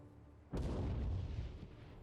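Mortar artillery fire in the strategy game Company of Heroes 3, a single sudden boom followed by a long rumbling decay, fairly close with no talk.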